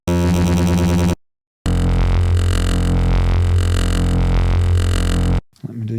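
A dense, buzzing modular synthesizer rotor patch drone with a pulsing, rotating modulation, played in two loud sustained bursts separated by a brief silence.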